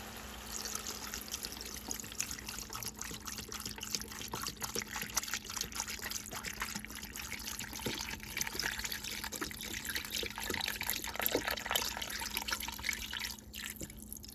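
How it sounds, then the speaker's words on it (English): A soft, continuous trickle of chicken broth being poured into a pot, with faint dripping and splashing over a low background hum. "Now I'm going to add a 32-ounce box of low sodium chicken broth."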